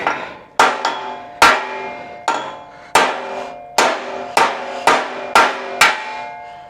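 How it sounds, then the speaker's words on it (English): Heavy hammer blows ring out on a thick chunk of steel on a motorcycle frame, about ten metallic strikes at an uneven pace, each leaving a bright ringing decay. "if at first you don't succeed, get a bigger hammer."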